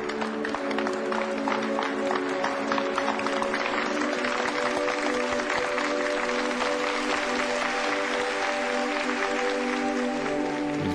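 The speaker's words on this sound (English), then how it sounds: "Let's give them a round of applause." Sustained applause from a large crowd welcoming soldiers back from a combat zone, dense and steady clapping that holds at an even level throughout, with no one speaking.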